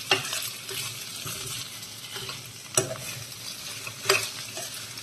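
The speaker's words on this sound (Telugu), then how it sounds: "మధ్య మధ్యలో కలుపుకుందామండి. ఒకసారి కలుపుకుందామండి." Tomato curry with boiled tubers sizzles steadily in a hot pan while a spoon stirs it through. Two sharper scrapes stand out against the continuous close frying hiss, and no one speaks.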